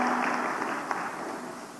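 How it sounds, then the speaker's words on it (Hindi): A crowd at an outdoor Indian government housing-scheme event with a chief minister claps together in a brief, dense burst that gradually thins, heard from a distance over a public address setting. "तालियां बजा के स्वागत करो"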